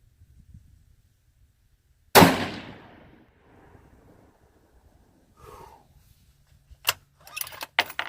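A Ruger American Predator rifle chambered in 6.5 Creedmoor, fitted with a Vortex scope and AICS magazines, fires one loud shot with a ringing echo tail, followed by quiet rustling and a few sharp metallic clicks.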